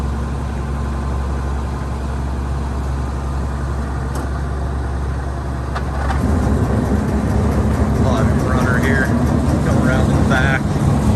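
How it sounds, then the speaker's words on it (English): A John Deere 7720 combine runs with a steady, loud engine drone, and at about six seconds the unloading auger swings out and starts, adding a fuller mechanical roar; a voice talks over it. "He'll swing the auger out here for you, show that work."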